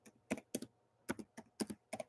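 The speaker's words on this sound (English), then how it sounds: "I'll just type my number in the chat." Several quick keystrokes tap on a computer keyboard as a phone number is typed, in short irregular bursts of clicks, close and fairly quiet, with no talk.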